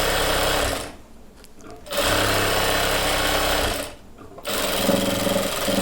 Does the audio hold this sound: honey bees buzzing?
no